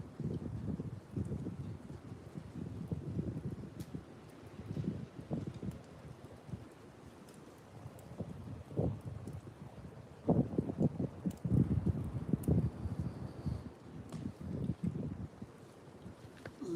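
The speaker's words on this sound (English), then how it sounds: "It's gotten a little windy," Gusty wind buffets the microphone in uneven low rumbling surges, rising and falling throughout, stronger toward the middle.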